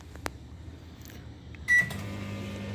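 A faulty microwave oven that runs without heating hums steadily, then a loud clunk and a brighter, louder running tone with a whine start partway through, alone without talk.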